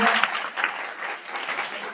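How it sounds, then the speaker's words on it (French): Audience applause at a French-language mid-year NeoLife rally, a dense steady clapping from a crowd lasting the whole short stretch, fairly loud with no voices over it. "Applaudissons pour Michel."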